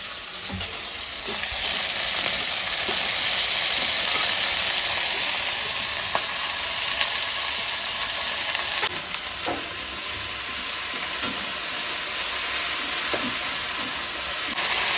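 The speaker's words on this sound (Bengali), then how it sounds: "একসঙ্গেই ভাজা হবে শাকও আমি দিয়ে দেবো" Leafy greens fry in hot oil with garlic, green chili and black cumin, giving a continuous loud sizzle and hiss with occasional stirring clicks and scrapes from a utensil in the pan.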